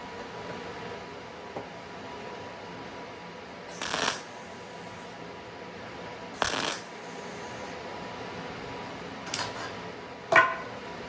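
Tack welds join a steel butt joint set with tile spacers, heard as four short crackling bursts spaced several seconds apart over a quiet background hiss.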